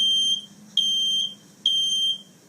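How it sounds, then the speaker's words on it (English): A smoke alarm inside a home sounds three long, shrill electronic beeps in a steady on-off rhythm, loud and close, with no voices. "I will start the fire alarm sounds in my home."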